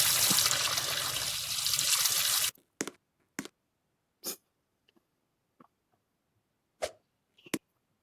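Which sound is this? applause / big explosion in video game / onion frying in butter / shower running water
shower running water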